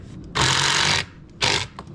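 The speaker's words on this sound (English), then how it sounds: "And then we tighten the screws up there." Power screwdriver driving screws into a wooden saw bench, two loud buzzing bursts close by, the first about two-thirds of a second long and the second shorter.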